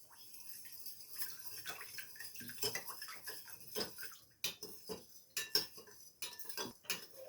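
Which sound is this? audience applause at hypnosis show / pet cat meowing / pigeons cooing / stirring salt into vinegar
stirring salt into vinegar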